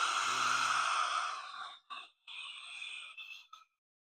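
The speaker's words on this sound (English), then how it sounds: "Exhaling out the mouth." Breath pushed out through the mouth during a yoga class, a long airy exhale of about two seconds followed by a few shorter broken puffs, close and fairly soft, with no talking.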